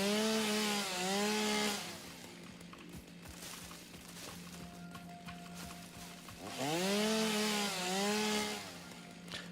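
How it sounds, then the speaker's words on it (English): A battery-powered chainsaw in the video game Satisfactory revs in two loud bursts cutting through bushes, each a rising and falling whine, separated by a quieter stretch of background game ambience with no talking. "I was hoping I could carve through more than just bushes with this chainsaw, but it's clearly battery powered."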